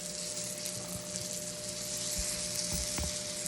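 Flour-dredged chicken frying in butter in a pan for chicken marsala, a continuous close sizzle and crackle with a few light stirring or scraping knocks.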